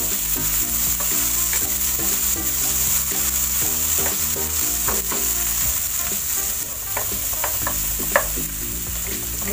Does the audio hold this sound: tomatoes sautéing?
yes